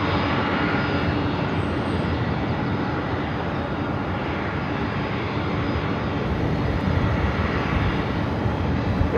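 Delta jet airliner landing at LAX, a loud, steady engine roar that holds for the whole stretch without letting up.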